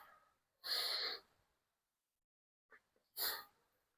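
A person exhales during a back-stretching exercise, breathing out in a soft, close airy rush. A short pause follows, then another brief breath out, in a quiet room.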